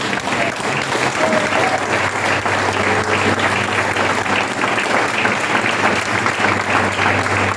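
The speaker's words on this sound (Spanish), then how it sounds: "Den un aplauso a Él." A church congregation claps loudly and continuously in dense, sustained applause that fills the room without a break.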